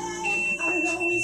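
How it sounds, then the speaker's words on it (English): A workout timer going off at the end of a core and band exercise set, a steady electronic alarm tone sounding close and loud over faint background noise. "Well, the timer stopped, so I guess that means we're stopping."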